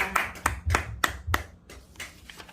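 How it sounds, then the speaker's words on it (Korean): A church congregation claps in praise to God, giving five or six loud, fairly even claps in a slow rhythm before the sound thins out. "하나님께 영광의 박수 올려드립니다"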